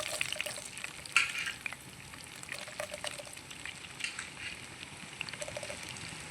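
Sliced onion and bay leaf fry in hot oil with a soft, steady sizzle, broken by occasional faint stirring scrapes.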